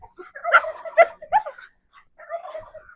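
A hen clucks and squawks in short, close bursts, a few quick calls followed by a pause and another run of clucking.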